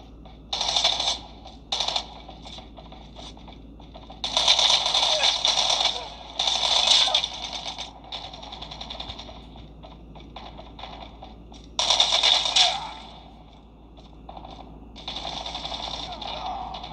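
Call of Duty gameplay gunfire comes in loud, rapid automatic bursts, several separate volleys of crackling shots with short pauses between them, close and dominant over the quieter game background.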